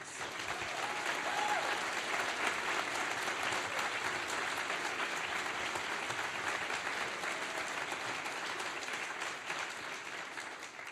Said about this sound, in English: Now let's give them a warm round of applause.